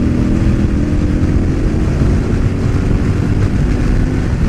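A KTM 1190 motorcycle pulls hard in sixth gear on a highway roll-on from 75, its engine droning loud and steady under heavy wind roar, close and continuous.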